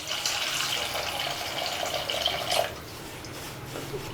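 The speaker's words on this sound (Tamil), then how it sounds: "தேவையான அளவுக்கு தண்ணி சேர்த்துக்கலாம்." Tamarind water pours into a pan of vendhaya kuzhambu, a gushing, splashing fill that runs steadily for a few seconds, then stops abruptly, leaving a quieter bubbling trickle close by.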